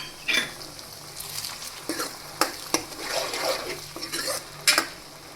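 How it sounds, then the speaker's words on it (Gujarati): Onions sizzle in a pan for a Gujarati leftover-roti vegetable dish, a continuous frying crackle broken by several clinks and scrapes of stirring. "અને હવે આપણે ડુંગળીને થોડીવાર માટે ચડવા દઈશું."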